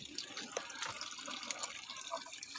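Wood vinegar runs from a condenser pipe down into a collecting tank, a faint steady trickle and patter of liquid with small drips, heard alone at a modest distance.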